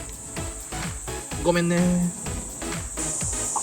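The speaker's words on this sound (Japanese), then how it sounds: "もう日暮らしやセミが鳴いているので夏ですね。" Higurashi and other cicadas buzz in summer beside a sludgy irrigation channel, a continuous high shrill drone throughout, with a low tonal hum midway and a brief spoken remark.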